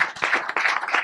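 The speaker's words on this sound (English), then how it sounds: "one more round of applause for you guys" A small audience at a morning startup pitch gathering claps briefly, a quick burst of close, dense applause.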